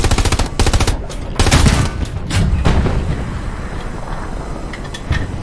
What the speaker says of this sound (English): Start shooting your machine gun.